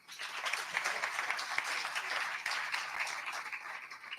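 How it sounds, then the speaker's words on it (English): An audience at a National Press Club Newsmaker of the Year event gives another round of applause, steady dense clapping at moderate distance that holds evenly for several seconds. "Let's give Prof another round of applause."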